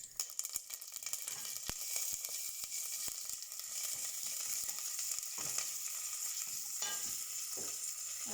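Curry leaves hit hot oil in a pan for a tomato curry, setting off a bright, steady sizzle with sharp pops and crackles that holds for several seconds without talk.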